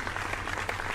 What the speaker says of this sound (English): Where is this applause coming from?